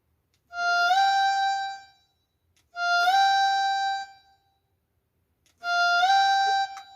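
Three sustained notes from an Aerophone electronic saxophone, each sliding slowly upward in a long pitch bend and holding, loud and up front with short gaps between the notes and no voices.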